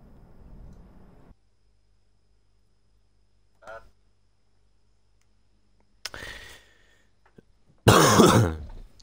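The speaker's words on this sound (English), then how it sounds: "I'm sorry about the coughing, I have asthma," Several harsh coughs and throat clearing from a man with asthma, in isolated bursts with silence between, the last burst loudest and close to the microphone.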